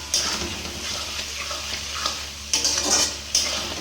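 A spice paste of chilli powder and other spices fries with potatoes and onions in a pan, hissing steadily as it is stirred, with a few louder bursts of scraping and sizzle.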